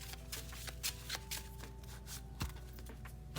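A deck of Yu-Gi-Oh cards being shuffled, with repeated quick riffling and flicking bursts at an irregular rhythm, close and fairly soft, with no voice.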